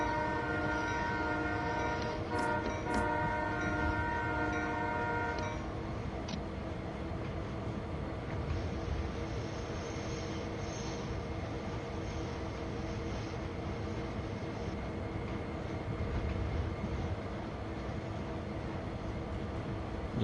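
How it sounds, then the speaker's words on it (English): A long automotive freight train rolls past in Train Sim World 4 on Sherman Hill near Laramie, with a sustained horn blast at first giving way to a steady, continuous rumble and clatter of rail cars. "Long automotive train, long one."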